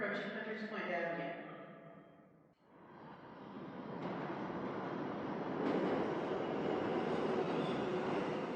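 A Manhattan-bound 7 subway train runs underground near Hunters Point Avenue, giving off a steady, dense rumble and rush. There is a brief dip before it builds to a louder, sustained roar with faint wheel screech.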